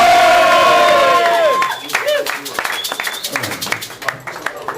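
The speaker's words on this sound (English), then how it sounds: "So can we have a round of applause?" An audience at a carnival concert applauds and cheers after a loud sustained tone fades, with scattered claps and crowd noise rising in uneven bursts through the rest.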